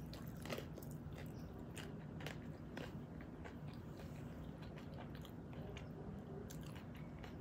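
Crunchy vegan food with guacamole being bitten and chewed close up, a steady run of crisp crunches and wet mastication over several seconds with no talking.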